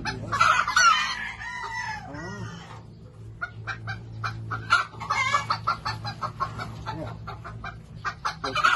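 A chicken clucks and crows in a run of close, busy calls, sometimes overlapping, with steady low background hum and no talking.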